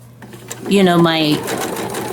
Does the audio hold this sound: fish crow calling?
no